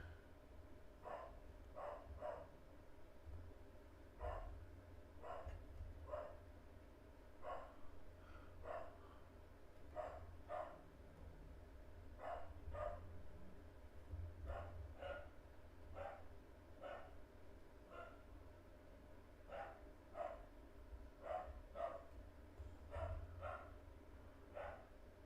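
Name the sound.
dog barking in the background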